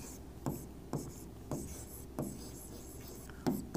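Writing on a board during a physics lesson: about six short scratchy strokes come at a steady, unhurried pace, close and faint, with no talking over them.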